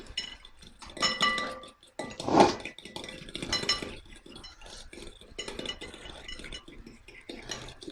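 Hung curd for tartar sauce being mixed in a bowl, with irregular spoon clinks and scrapes against the dish, one louder knock near the start and quieter clatter after, no voices.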